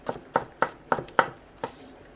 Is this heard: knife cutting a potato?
yes